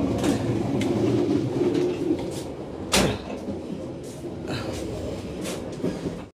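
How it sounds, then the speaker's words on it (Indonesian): Inside a moving executive-class passenger train in Indonesia, a steady rolling rumble fills the carriage, broken by a sharp knock midway and faint clatter, with a few muffled voices in the background. "Suasana di kereta eksekutifnya ya."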